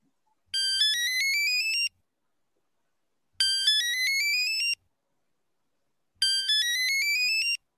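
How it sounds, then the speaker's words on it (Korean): An old mobile phone ringtone chirps in three identical bursts of rising electronic tones, each lasting over a second and separated by short silences, clear and close with nothing else audible. "옛날 폰이고 전화가 지금 계속 울리고 있어요"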